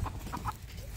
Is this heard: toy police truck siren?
no